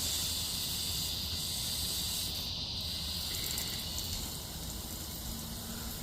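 Cicadas buzz in a loud, steady, high-pitched drone that fills the whole stretch without a break, with no one talking.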